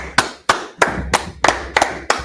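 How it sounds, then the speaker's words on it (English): Rhythmic group clapping in a class gathering, about seven sharp, evenly spaced claps roughly every third of a second, close and loud with no talk. "Clap it up."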